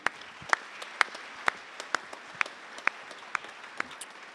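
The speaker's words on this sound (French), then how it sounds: "Que nous applaudissons." Applause at a research grant presentation comes from only a few people, a sparse series of distinct, evenly spaced hand claps over a quiet room background.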